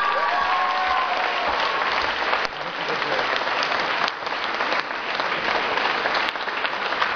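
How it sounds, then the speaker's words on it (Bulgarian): Sustained applause from a large audience at a school performance honoring a vocal teacher, a broad continuous roar of clapping heard close and loud with crowd noise mixed in. "Аплодисменти за вокалния педагог Стела Дойкова."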